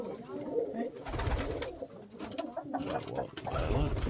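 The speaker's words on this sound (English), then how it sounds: "Hello, pigeons." Pigeons coo softly and repeatedly close by in Żelechów, Poland, their low throaty calls rolling over one another with some faint rustling.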